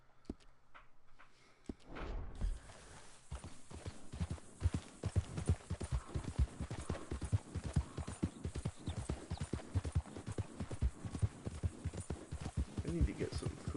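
Horse hooves clip-clop in Red Dead Redemption 2, beginning after a brief pause and then settling into a steady, close, rhythmic trot that continues to the end.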